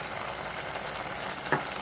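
Grated bottle gourd halwa fries in butter in a pan, giving a soft continuous sizzle with a brief stirring scrape near the end and no talking.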